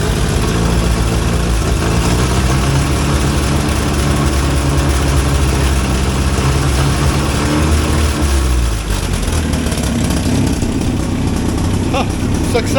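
A 1963 Hillman Super Minx engine idling and revved, loud, close and continuous, with its pitch rising and falling and then dropping near the end, while a person talks over it.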